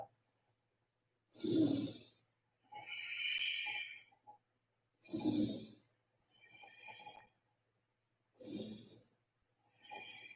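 Deep, forceful breaths during a seated yoga twist: three loud, rushing exhales at steady intervals, each followed by a softer, airy inhale, close and with no talking.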